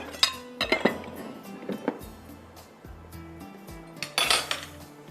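A large metal pan handled in a home kitchen, giving several sharp clanks and clinks of cookware, loudest near the start and again near the end, with no talking.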